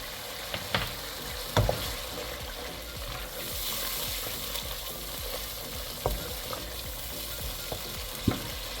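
Turmeric and spices frying in a pan for a fish shorba with gravy, a soft steady sizzle with occasional utensil clicks and taps, fairly quiet and without talk.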